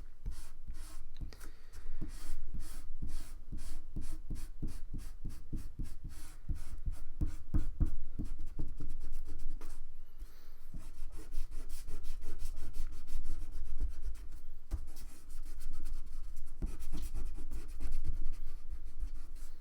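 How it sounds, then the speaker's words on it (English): Eraser rubbing out pencil lines on drawing paper: quick back-and-forth scrubbing strokes in fast rhythmic bursts, then slower irregular rubs, close and steady, with no talking. "I want to erase as much of the pencil lines as I can"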